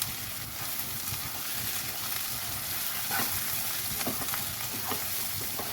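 Onions crisp up in a pan for a Bengali onion-poppy seed dish, a loud, close, steady frying hiss with occasional soft crackles and stirring knocks.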